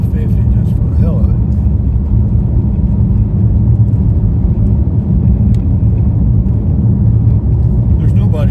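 Ford Maverick pickup cruising at about 45 mph, a steady low road rumble and tire drone filling the cabin without pause, with someone talking over it.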